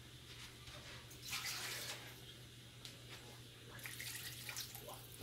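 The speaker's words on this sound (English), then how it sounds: "Might add a little bit more water to it." Water pours and splashes into a cooking pot holding pig feet, a steady running rush with louder surges partway through and near the end, heard up close with no talking.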